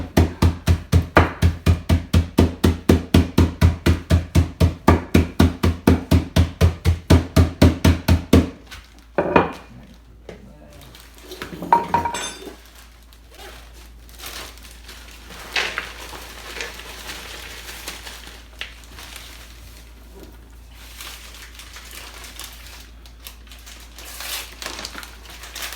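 Nuts are crushed only partway for baklava, a fast, even run of sharp pounding strikes that stops abruptly, followed by sparse clatters and scraping.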